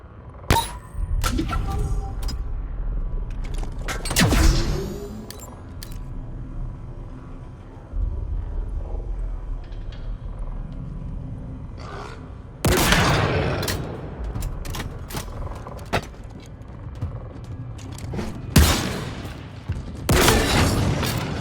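Heavy Skewer weapon shots in Halo Infinite, a handful of loud booming blasts spaced several seconds apart, each with a short rumbling tail over faint game ambience.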